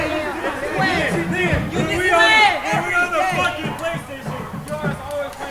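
Crowd noise at a high school football game, picked up by the crowd mic, with nearby spectators chattering loudly over a general stadium hubbub.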